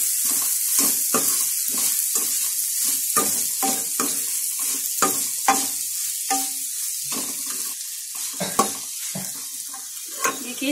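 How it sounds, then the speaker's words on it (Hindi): Masala fries in a pan with salt for a cluster bean dish, a soft sizzle broken by repeated scraping strokes of a spoon stirring it, close and fairly loud without any talking. "इसके अंदर हम नमक डालेंगे, इसको अच्छे से मिक्स कर देंगे।"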